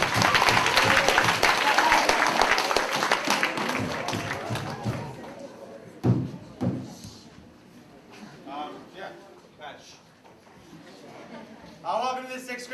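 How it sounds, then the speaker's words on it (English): A school audience at a sixth grade assembly gives loud, sustained applause for about six seconds, which then fades into scattered clapping, thuds and quieter room sounds. "a big round of applause"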